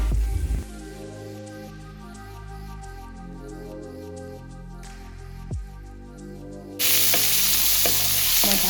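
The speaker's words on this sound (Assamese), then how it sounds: "এতিয়া মই ভাজি ল'লোঁ" Spices and turmeric fry in a pan for an Assamese fish curry with a steady close sizzle, with stirring scrapes partway through and a louder, hissier burst of frying near the end, and no talk.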